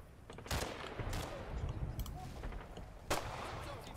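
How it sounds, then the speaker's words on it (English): Gunfire in the WWII video game Combat Mission Battle for Normandy, set among Normandy hedgerows: several sharp, distant shots and short bursts crack out over a faint background. "They're shooting up that hedgerow over there."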